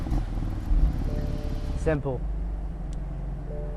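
A BMW M4 turbo engine cranks and fires up with a quick starter whir and a rising bark, then settles to a low idle rumble, while someone talks over it.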